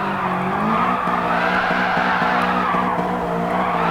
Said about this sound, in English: a drift challenge in the 86 Group 4